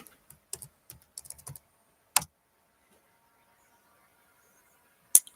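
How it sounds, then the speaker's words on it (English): Computer keyboard typing in a quiet room: short clustered bursts of key clicks, then a single louder tap and a final sharp click after a pause, fairly close and alone with no talk. "I'm going to type in the chat."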